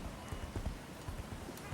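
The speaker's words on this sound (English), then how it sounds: "So now we can ride around on the horse if we like this." Horse hooves clip-clop in the Age of Wushu video game as a mount is ridden, a quick, steady rhythm of soft thuds under a voice talking.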